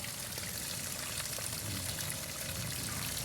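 Strong flow of water gushing from a pipe at a faucet and washing area, a steady, loud rushing and splashing with no pause, heard alone.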